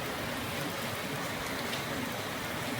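Steady rain falls all around, a dense even hiss of drops on surfaces that holds without a break at moderate loudness.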